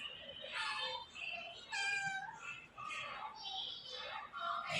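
A kitten meows loudly and repeatedly, several drawn-out, high-pitched cries in close succession, close to the listener with little else around.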